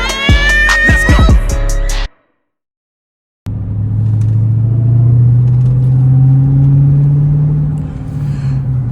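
A 2023 Dodge Challenger SRT Hellcat Jailbreak Redeye driving at night, its engine a loud, steady low rumble from inside the cabin that rises in pitch, following a brief burst of loud harmonic sound and a short silence.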